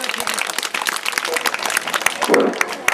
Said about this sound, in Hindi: ताली बजाओ बच्चों, ताली बजाओ